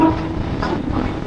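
A passenger train pulls out of Chamar Dighi station on the Katwa–Barddhaman line, giving a steady, fairly loud rumble and rattle that carries on without a break and without any voices.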